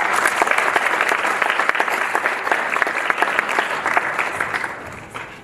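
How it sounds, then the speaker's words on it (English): An audience applauds a speaker with loud, dense clapping that holds steady and then eases slightly at the end. "Can you please give him another round of applause?"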